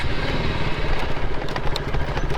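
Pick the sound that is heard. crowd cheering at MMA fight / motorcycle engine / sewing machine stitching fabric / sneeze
motorcycle engine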